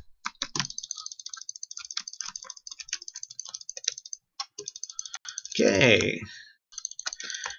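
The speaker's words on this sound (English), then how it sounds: "you can hear my mad clicking there, of course" Rapid mouse clicking while playing Nuclear Throne, a fast irregular string of sharp close clicks, with a brief spoken word and a burst of game sound near the end.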